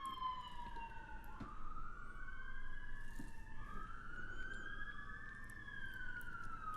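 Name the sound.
sirens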